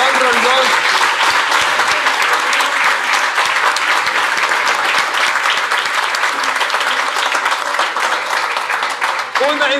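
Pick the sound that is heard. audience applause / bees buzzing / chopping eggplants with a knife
audience applause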